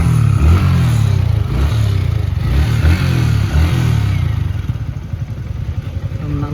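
A Yamaha R15 motorcycle engine idles and blips close by, a loud low throbbing with repeated revving surges and some mechanical clatter, continuous for several seconds.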